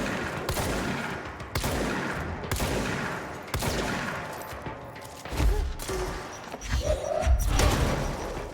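Shotgun fired repeatedly in a video game: sharp, heavy blasts roughly once a second over a busy, noisy background of thuds and rumble, loud and close.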